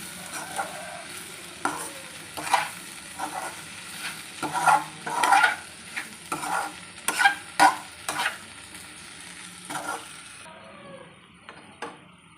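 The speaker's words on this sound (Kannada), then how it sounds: "ಇದು ಎಲ್ಲ ಹಾಕಿದ ಮೇಲೆ ಭಾಳ ಹೊತ್ತು ಕುದಿಸ್ಬೇಕಾಗಿಲ್ಲ ಗ್ಯಾಸ್ ಆಫ್ ಮಾಡಬೇಡ್ರಿ" Okra stir-fry cooks in a pan on a gas stove, with an irregular series of close scrapes and stirring knocks over a continuous frying sizzle that fades near the end.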